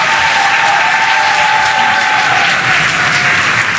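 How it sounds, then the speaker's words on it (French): Loud, sustained applause from a French children's TV game show audience, steady dense clapping filling the whole stretch with no voices over it. "Un tonnerre d'applaudissements."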